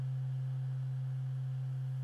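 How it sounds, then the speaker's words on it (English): A single pure, steady low tone held without change, smooth and clean like a synthesizer sine wave, alone and fairly quiet. "I'm gonna hold down one note, we're playing a sine wave form."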